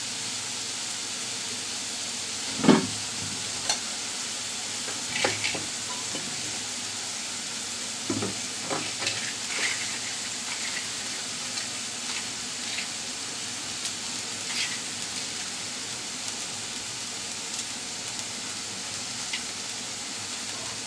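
Sliced green chillies hit hot oil in a pan for a radish fry with prawns, giving a steady low sizzle with a few sharper crackles and pops near the start, close and unaccompanied by talk.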